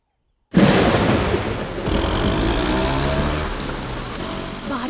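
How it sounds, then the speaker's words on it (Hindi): Steady, dense rain pours down after a sudden onset, a loud continuous wash of noise with a low rumble beneath it and no voices. "बारिश हो रही है"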